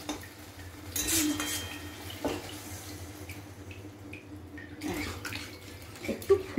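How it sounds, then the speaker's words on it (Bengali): Jackfruit curry with soy sauce and water simmering in a pan, a soft bubbling bed with scattered metallic clinks and scrapes of utensils against the pan, close and moderately loud, no talking. "দেখো ফুটে গেছে, এই যে টকবক করে ফুটছে"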